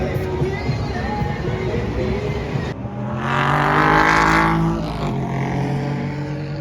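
Porsche GT3 race cars, mid-engined with the engine behind the driver, run on a track during a sports car championship session, with a continuous loud engine drone that swells and then eases as a car passes close by.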